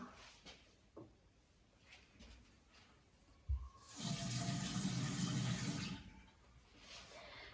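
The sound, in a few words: water running from tap while washing hands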